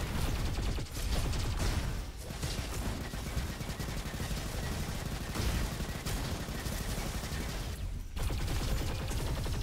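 Continuous heavy weapon fire in the robot shooter game Roboquest, a steady loud stream of shots and mechanical clatter broken by a few brief gaps, with no voices over it.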